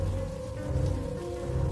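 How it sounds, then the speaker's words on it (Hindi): Continuous heavy rain pours down in a dense, unbroken roar, loud and even throughout, with no voices or other sounds. "कुछ देर सिर्फ लगातार बारिश की आवाज के अलावा कुछ सुनाई नहीं दिया"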